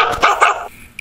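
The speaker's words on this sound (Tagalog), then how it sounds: "Uy, may aso." A dog in the AgriBaron farming app game gives two quick, close barks, loud and sharp, then falls silent.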